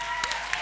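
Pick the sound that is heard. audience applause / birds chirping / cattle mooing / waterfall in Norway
audience applause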